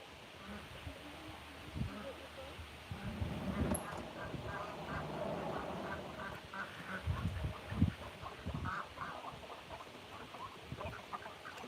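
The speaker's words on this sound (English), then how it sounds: "I've got an injured chicken here that I'm going to put in a kennel" An injured hen on a farm in rural South Dakota clucks and squawks among other farm fowl, with scattered bursts near and far and someone talking at times.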